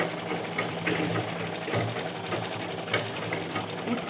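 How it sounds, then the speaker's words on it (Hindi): A sewing machine stitches a bias-cut fabric strip onto a Rajputi ghagra skirt, giving a close, continuous mechanical whir with light rhythmic pulsing. "यहाँ पे मैं इसके ऊपर जब सिलाई ले लेती हूँ"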